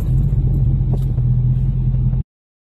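A car's engine rumbles steadily at close range as it creeps slowly up onto ramps, revving lightly before cutting off abruptly.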